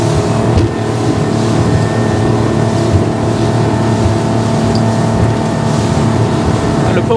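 A Highfield Patrol 860 RIB motorboat accelerates through wash at around 30 knots, its engine a loud, constant, close roar layered with rushing water and hull noise, unbroken from start to finish.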